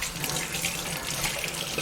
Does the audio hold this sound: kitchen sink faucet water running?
yes